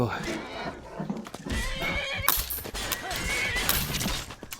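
Horse neighing during a fight in the video game Skyrim, loud repeated whinnies over combat clatter and crashes, with someone talking over it.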